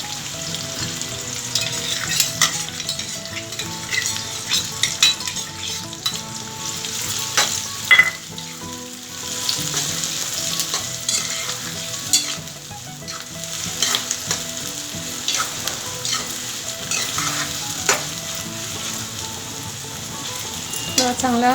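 Onion and coarsely crushed garlic fry in a pan for a Konkani baby jackfruit dish, a dense, steady sizzle with crackle and occasional stirring scrapes, close and loud for the whole stretch, no one speaking.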